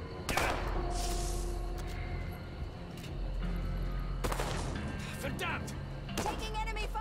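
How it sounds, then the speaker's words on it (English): Enemy gunfire in a WW2 real-time stealth tactics video game, a few sharp bursts and cracks over low game ambience, with talk mixed in. "Taking enemy fire."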